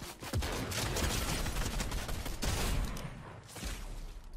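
Sniper fire in a Fortnite-style trio battle game, heard as dense, loud crackling gunfire bursts that run almost continuously, with a short lull before a final volley.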